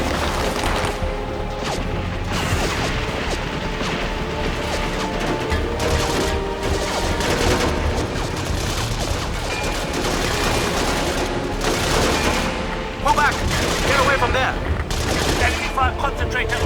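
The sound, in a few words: friendly gunfire in video game Battlefield 2: Modern Combat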